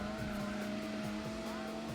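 A small front-wheel-drive car's engine from the Gran Turismo 4 racing game hums at a steady, fairly high pitch, with a faint squeal of tires, close and constant for two seconds.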